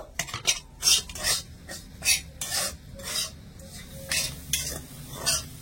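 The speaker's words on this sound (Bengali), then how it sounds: "আবারও সবকিছু ভালো করে মিশিয়ে একটু ভাজা ভাজা করে নেব।" Spiced lentil filling for dal puri is stirred and fried in a pan, a spatula scraping and rasping against the metal in rhythmic, close strokes about twice a second, with a faint background sizzle.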